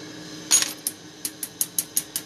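A glass marble is tapped off the rod during glassblowing, producing one sharp clink followed by a run of about seven quick, bright ringing taps, close and distinct with no talk.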